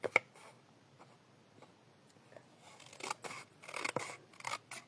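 Scissors snip through paper pieces being cut out for a relief map, a series of soft, close clicks and crisp cuts that grow busier toward the end, with no talking.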